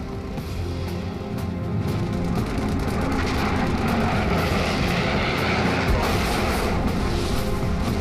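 Vought F4U Corsair WWII fighter with 2,000-horsepower radial engines roars steadily and loudly overhead for the full length, a dense continuous drone with no voices.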